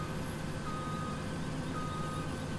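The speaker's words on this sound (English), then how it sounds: "And the beeping of the combine." Steady electronic reversing beeps from a combine harvester in Farming Simulator 2017 repeat over a constant engine drone, close and continuous throughout.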